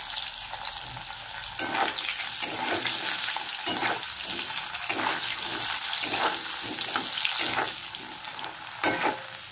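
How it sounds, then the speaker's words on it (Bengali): Potatoes frying in oil in a pan, a steady loud sizzle that runs throughout, broken by soft rhythmic stirring scrapes. "এবার আমি আলুগুলো দিলাম। আলুগুলো একটু লাল লাল করে ভেজে নেব।"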